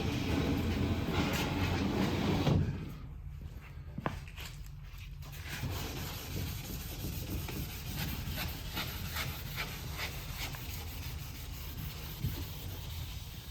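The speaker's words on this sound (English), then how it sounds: "But I always sand my panels." Sanding the edge of a Tyvarian panel with its flow coat, a steady close rasping rub that pauses briefly partway through, then resumes with scattered scraping strokes.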